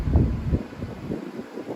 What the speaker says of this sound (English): Another windy night.